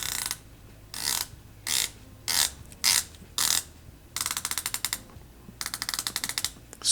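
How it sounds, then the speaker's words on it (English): Crisp ratcheting clicks from the rotating bezel of a Zelos Hammerhead V3 bronze dive watch, first as single sharp bursts, then as fast rapid runs of close, loud clicks. "Now let's do a quick bezel action check, and the bezel action on here is excellent as well"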